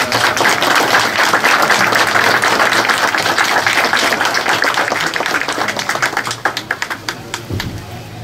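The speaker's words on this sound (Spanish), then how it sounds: "¡Aplausos!" Applause breaks out at the inauguration of a municipal clinic, a crowd clapping steadily and fairly close. The clapping thins into scattered individual claps near the end, with no speech over it.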